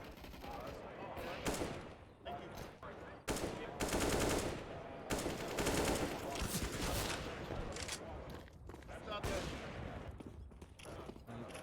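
AUG rifle fire in a CS:GO match at the PAX Australia 2019 tournament: repeated sharp bursts and rapid volleys of shots, loud and dense across the clip, with brief pauses between strings of fire.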